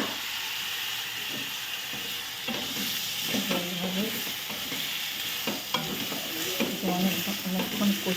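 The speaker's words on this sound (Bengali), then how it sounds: "তারপরে ভেজে রাখা সবজিগুলো এর মধ্যে ঢেলে দেব।" Fried vegetables get tipped into a pan and stir-fried for a fish curry, with a continuous close sizzle and hiss under intermittent scraping stirs and no talking.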